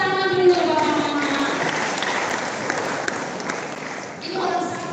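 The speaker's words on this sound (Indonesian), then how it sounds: "Tepuk tangan dulu bapak mama." A church congregation applauds at an Alor ethnic culture month Sunday service, with sustained, dense clapping running throughout while voices speak over it at the start and end.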